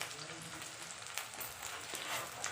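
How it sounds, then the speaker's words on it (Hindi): Pumpkin sabzi sizzles quietly in a pan, a faint, steady crackle with occasional soft stirring scrapes and a few brief, distant voice sounds in the background. "यहाँ बन रही है मेरी कद्दू की सब्ज़ी"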